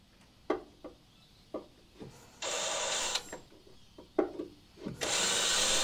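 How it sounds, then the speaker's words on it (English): A power drill bores out spot welds in the rusted sheet-metal body of an RA23 Toyota Celica restomod, with two whining bursts of drilling between scattered clanks and taps in a quiet workshop. "So what I am going to do is just drill in between."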